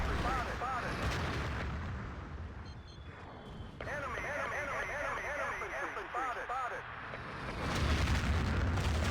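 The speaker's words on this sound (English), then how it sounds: "a picture-perfect artillery strike" An artillery strike in the video game Battlefield 2, with a continuous barrage of booming impacts and rumbling blasts under ongoing chatter and warbling game tones, loud and dense throughout.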